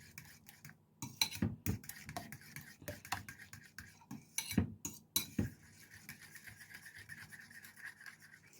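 Egg and turmeric powder being mixed in a bowl with a utensil for a bread and egg dish, irregular scraping and clinking strokes of varying loudness, close by, with no talk.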